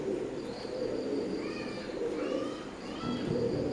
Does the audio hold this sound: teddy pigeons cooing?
yes